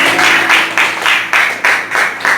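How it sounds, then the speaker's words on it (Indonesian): Church congregation clapping in unison at a Sunday service, a loud steady rhythm of about three beats per second filling the room, close and with no talk over it. "Yang setuju tepuk tangan bagi Allah kita."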